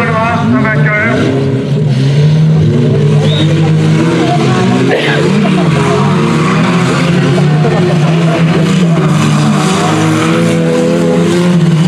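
Super stock car engines roaring around a track at a 2018 race meeting in Saint-Georges-du-Rosay, a loud continuous engine drone with occasional revving, heard under a commentator talking over a public-address system.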